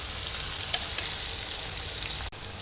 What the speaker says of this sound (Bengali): শুটকিটা একটু কষাই নিয়ে তারপর আমি শাকটা দিয়ে দেব।